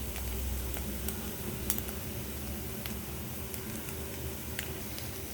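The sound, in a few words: eggs frying in a wok with black pepper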